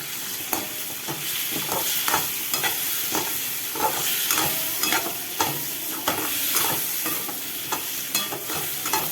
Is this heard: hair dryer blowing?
no